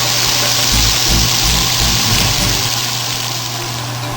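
Onions and bacon sizzle and crackle steadily while roasting down to wilt in an Alto-Shaam cook and hold oven, a constant loud hiss with a low mechanical hum running underneath, no voices.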